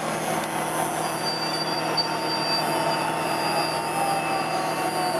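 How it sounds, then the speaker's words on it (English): A freight train rolls along rails during trackside railfanning in July 2012, a steady near rumble of cars with high wheel squeal and a faint metallic clatter held throughout, with no talking. "I finally got a train moving."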